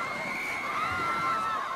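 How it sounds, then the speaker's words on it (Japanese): A crowd in a 2D clay animation shouts and cheers loudly, a dense, continuous wash of many voices with no single speaker standing out, filling the whole short moment. "大声を叫びながら"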